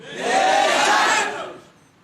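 A crowd raises a loud, massed chant of slogans at a religious gathering, the shouted voices swelling together for about a second before fading out.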